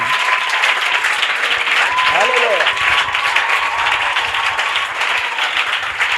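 An audience applauds and cheers for honoured guests at a church fair gathering, with loud, continuous clapping that fills the whole stretch, a brief tonal sweep near the middle, and voices under it.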